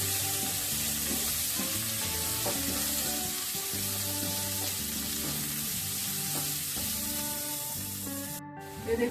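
Cauliflower fries with turmeric powder over a high gas flame in a pan, a loud steady sizzle with stirring scrapes throughout that cuts out briefly near the end.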